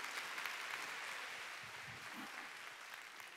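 Congregation applauding during a Wednesday church service, a faint, steady wash of clapping that runs throughout with a few low murmurs underneath.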